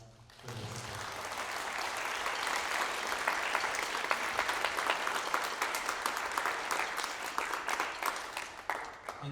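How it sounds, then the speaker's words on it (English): Audience in a college auditorium applauds at a wind ensemble and concert band performance, clapping swelling quickly after a brief voice and holding as a dense, fairly distant ovation. "could we just give them some love and a round of applause for this?"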